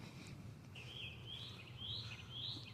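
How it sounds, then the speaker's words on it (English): Birds chirping outdoors on a walk by a river, faint repeated high-pitched calls in short phrases over a low background rumble. "But they got the birds making so much fake noise."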